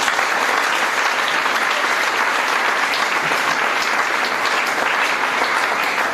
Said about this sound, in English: Please, I want everybody to clap for Dr. Ifediora.